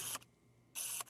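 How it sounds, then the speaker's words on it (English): Two short bursts of a lens focus motor whirring, a brief high buzzing hiss each time, close and faint, separated by near silence. "But it doesn't have the quietest focus motor out there,"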